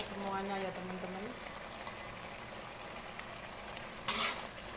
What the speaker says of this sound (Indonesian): kalau masak berisik. Ini karena sotelnya ini stainless